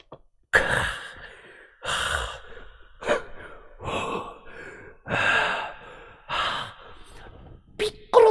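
A voice imitating a Dragon Ball anime character's heavy breathing: a run of loud, close, drawn-out exhalations and gasps repeated about seven times with short pauses between.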